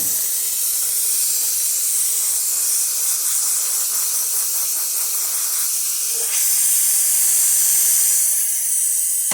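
A loud, continuous steam-wand hiss from a La Spaziale Mini Vivaldi II espresso machine runs nonstop, with a slight rise in intensity near the end.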